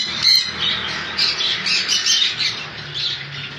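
Pineapple conure parrots in a bird shop squawk loudly and repeatedly, harsh, overlapping shrieks in quick succession with no talking.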